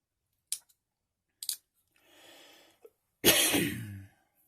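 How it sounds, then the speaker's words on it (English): After a few small clicks and a soft breath, a single loud sneeze bursts out close by, then fades quickly. "Sorry, I had to sneeze"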